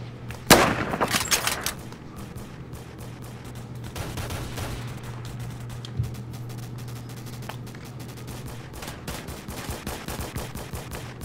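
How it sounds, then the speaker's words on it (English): Video game gunfire, a loud burst of rapid automatic shots up front followed by scattered fainter shots and a steady low hum through the rest, no voices. "Where am I getting shot from?"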